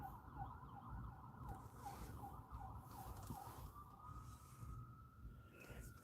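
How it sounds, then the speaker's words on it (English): A siren wails faintly in the distance, its pitch cycling up and down before settling into a steady tone over background noise. "I hear sirens"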